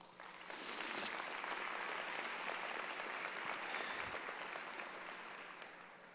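Applause at a 2016 university commencement ceremony for graduates: a soft, distant, steady sheet of clapping from a large audience, swelling in at the start and tapering gently at the end.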